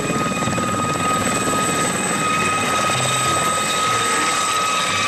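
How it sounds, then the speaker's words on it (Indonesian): Military helicopter in the video game Jurassic World Evolution 2, its steady rotor thump and engine whine continuous and loud throughout, with no talk over it. "Wow, helikopter militer."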